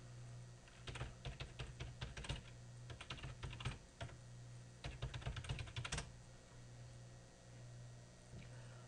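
Fingers tap a computer keyboard while logging into a system, giving two quick bursts of close, soft key clicks separated by a pause, over a low steady hum.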